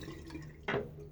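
A safety razor, a Timeless SS .68 open comb holding a Gillette Nacet blade, is rinsed under water: a short, close burst of running, splashing water rises suddenly over a quiet background and ends after about half a second.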